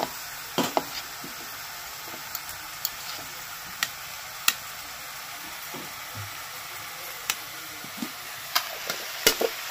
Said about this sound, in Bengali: ওদিকে চিকেনটা ভাজা হচ্ছে